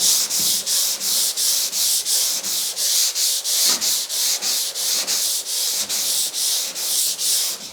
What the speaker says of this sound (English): So here I'm gonna go through, sand this side here